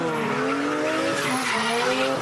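A drift car at the 2019 Super Drift Brasil round at Mega Space slides with a loud, steady tire squeal over a straining, high-revving engine, close and unbroken throughout.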